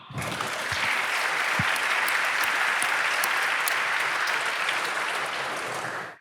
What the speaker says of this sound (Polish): Dziękuję, brawa.